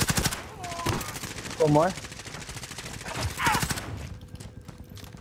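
Bursts of rapid gunfire from the Call of Duty Warzone video game on the Fortune's Keep map, crackling under close, excited player voices that talk over most of the clip.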